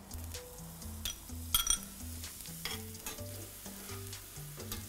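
Chopped onion sizzles in a pan with garlic and oil, a steady frying hiss with a few light clinks, heard under background music.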